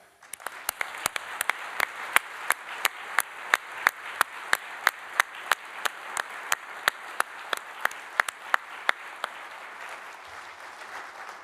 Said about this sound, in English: Please join me in a round of applause for our award winners.